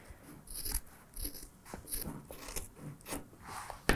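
Scissors trim the seam allowance of a fabric treat bag along a curve, giving a series of soft, crisp snips and rustles close by, irregular and fairly quiet, with no talking.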